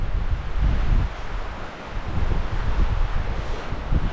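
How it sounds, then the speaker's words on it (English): Wind blowing outdoors on a mountain pass, a loud, steady roar buffeting the microphone in uneven gusts with rustling underneath, no voices. "This is quite windy."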